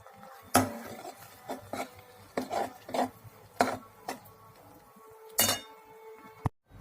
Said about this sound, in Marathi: आता आपण चांगलं हलवून घेऊया।